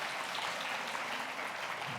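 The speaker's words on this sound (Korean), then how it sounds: "우리 큰 박수 한번 해주시기를 바랍니다" Church congregation applauding during a Sunday morning worship service, a steady even wash of clapping at moderate level that carries through the whole moment with no speech over it.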